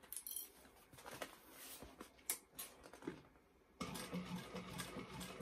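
A sewing machine stitches the fabric seams of a bag in quick bursts of rapid mechanical chatter, pausing briefly before running again steadily, close and fairly quiet.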